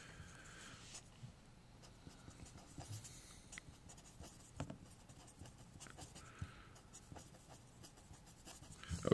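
Pen scratching steadily across paper as a problem is written out, a faint, continuous scribble with small bursts of strokes and no talk.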